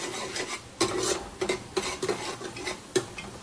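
Garlic-ginger paste and chopped coriander stirred in hot oil in a pan, a utensil scraping and clinking against the metal in a steady series of taps and rasps, close and fairly loud, no talking.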